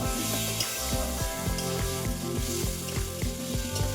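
Frying cabbage mixture with potatoes and salt stirred in a pan for badhakopi pakora jhal, a steady sizzle with rhythmic scraping strokes of the spoon, close and even, no voices.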